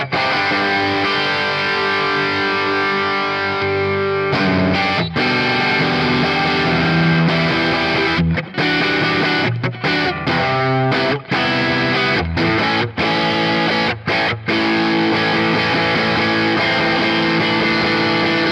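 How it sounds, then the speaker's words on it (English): An electric guitar played through a Leeky Diamond Distortion+ pedal set as a mild overdrive boosting an amplifier: loud, sustained, gritty chords and riffs with brief stops between phrases. "I think it sounds really good as a mild overdrive to boost an amplifier like this."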